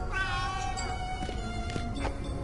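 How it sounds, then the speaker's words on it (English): Cat in the A Vampyre Story adventure game giving a few drawn-out, wavering meows, soft and close, with no talking over them. "Frederick, look, it's a cat"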